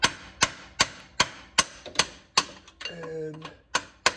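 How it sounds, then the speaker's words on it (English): Sledgehammer blows on a pickle fork driven against a part while replacing motor mounts on a 2008-2014 Cadillac CTS: about ten sharp, loud metallic strikes at a steady beat, with a brief ringing scrape near the end. "I'm going to just put my pickle fork on the end of there. Take my sledgehammer on the other end"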